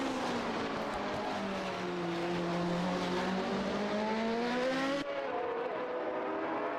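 Formula 1979 V8 race cars lap the Bugatti circuit at Le Mans in a racing video game, engines droning steadily with rising and falling pitch as cars draft close together, one sweeping past near the end.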